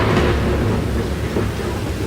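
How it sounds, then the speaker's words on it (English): Thunder during a thunderstorm, with a loud, sustained low rumble rolling beneath steady rain noise and no clear speech. "Well, God made the noisy thunder, Brittany."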